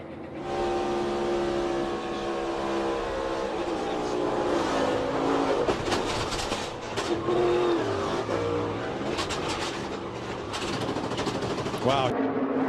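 Onboard a NASCAR race car, the number 42 driven by John Hunter Nemechek, the engine roars steadily at high revs, with loud continuous drone, a brief dip in pitch and rising tone near the end, and a commentator speaking over it.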